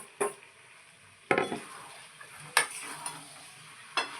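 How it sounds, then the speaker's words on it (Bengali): Fried shrimp tipped into a pan of onion-flower curry and stirred, with soft sizzling and a few distinct scraping clatters of a spoon against the pot, spaced irregularly, close and fairly quiet. "এই চিংড়ি মাছ যে ভুসো চিংড়িগুলো ভাজা ছিল সেগুলো দিয়ে দিচ্ছি"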